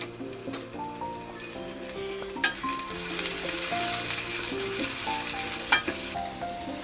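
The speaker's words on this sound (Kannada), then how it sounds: "ಇವಾಗ ಇಲ್ಲಿ ಈರುಳ್ಳಿ, ಬೆಳ್ಳುಳ್ಳಿ, ಕರಿಬೇವು," Onion, garlic, curry leaves and dried chilies frying in oil for vegetable sambar, a moderate crackling sizzle that swells as they hit the pan, with a couple of sharp utensil knocks.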